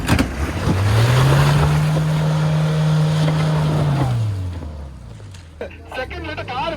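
A Mahindra Thar Earth Edition stuck in mud, its engine revving up loud and holding high for a few seconds before dropping back to a low idle, with speech in the background.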